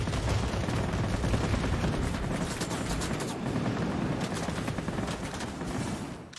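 Aircraft guns on a Me P.1102 B firing at ground targets in World of Warplanes, a continuous loud rattling burst of rapid gunfire with rumbling impacts that eases off at the end.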